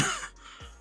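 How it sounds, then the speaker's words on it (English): A single sharp cough bursts out at close range, followed by a brief, quieter throat-clearing rasp that trails off, with no talking over it. "I had a cough there"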